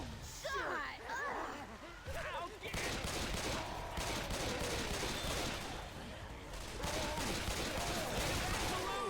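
Left 4 Dead 2 gunfire crackles in dense repeated volleys amid chaotic in-game noise, while a person talks excitedly over much of the action.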